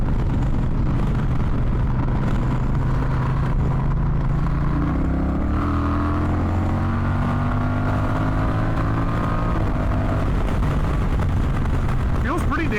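Honda Rebel 1100 DCT motorcycle accelerating on a highway, a loud steady engine drone with rising pitch as it climbs through the gears, heavy wind roar throughout.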